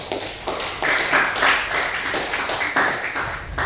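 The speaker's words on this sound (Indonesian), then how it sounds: "tepuk tangan untuk Firnanda dan James" Students in an Indonesian classroom clap for two classmates, Firnanda and James, a close, uneven patter of hand claps with a few louder bursts running steadily throughout.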